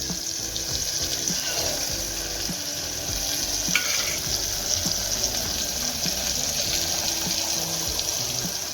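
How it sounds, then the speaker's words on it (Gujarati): Potatoes and seeds hiss and sizzle in a frying pan for Maggi rice, with a steady frying noise and stirring sounds underneath, close and continuous without talk. "હવે આપણે બટેટા નાખશું એમાં બી નાખશું"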